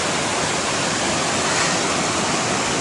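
The Sunday River rushing past a riverside campsite, a steady, loud, broadband roar of flowing water with no voices and no change in level.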